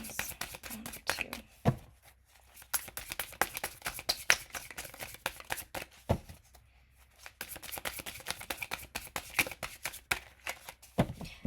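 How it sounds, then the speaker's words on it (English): Tarot cards shuffled by hand in quick, crisp riffling bursts separated by short pauses, close and fairly quiet, with faint talking in the background. "As I'm shuffling"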